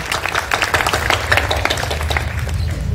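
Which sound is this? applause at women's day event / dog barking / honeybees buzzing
applause at women's day event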